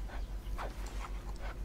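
A dog in the Roblox game Mad City whimpers and yips in a few short, thin cries repeated over a steady low background hum, with no talk over it.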